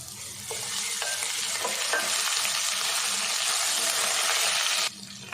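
Steady, dense sizzling of whole spices with ginger and garlic frying in a hot pan, loud and continuous for several seconds with a few faint stirring clinks, then it drops off near the end.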